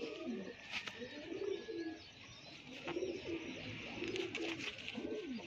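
Pigeon cooing close by, several soft repeated rolling coos in a steady rhythm over faint background chirps and room noise.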